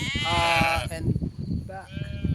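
Sheep on a traditional farm bleat loudly and nearby, two or three wavering calls with someone talking in between and under them.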